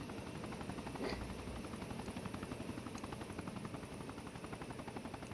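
Steady, loud rotor and engine drone heard from inside a flying helicopter's cabin, with a fast rhythmic blade thump running continuously through the whole stretch.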